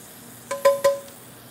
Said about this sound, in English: The anchovy fillet, they're gonna break in pieces, so they don't worry about it. They're gonna break by themselves. See, look at this. Just stir this around.